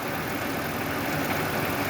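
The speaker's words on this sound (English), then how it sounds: "the engine is still working" A Nissan car engine idling with its battery disconnected, a steady, fairly loud mechanical hum with a low rumble and no talk over it.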